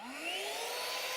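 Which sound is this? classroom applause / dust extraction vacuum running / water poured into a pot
dust extraction vacuum running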